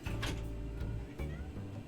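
Pet cat meowing at a bedroom door while Animal Crossing plays, a couple of drawn-out close meows over steady background game sound.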